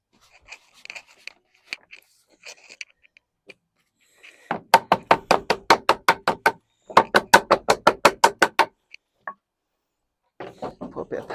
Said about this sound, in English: Knock that up with a bit of wood.